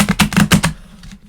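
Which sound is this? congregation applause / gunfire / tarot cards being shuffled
tarot cards being shuffled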